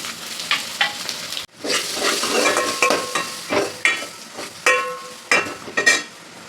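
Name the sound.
cumin and black pepper frying in hot oil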